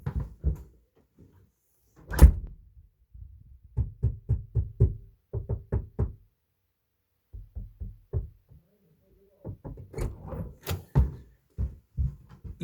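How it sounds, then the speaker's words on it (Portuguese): Knocks on the door of an acoustically isolated recording studio come in several quick bursts of muffled thumps spread across the stretch, fairly faint and dull, with no talk over them. "Eu vou sair, vou fechar, ou seja, vou isolar a sala e vou bater na porta"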